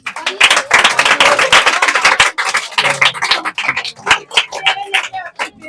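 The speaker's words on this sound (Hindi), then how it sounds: "तो ताली बजाते रहो।" Students in a 12th-class coaching batch ceremony clap together in dense, continuous applause that thins toward the end, with voices talking over and between the claps.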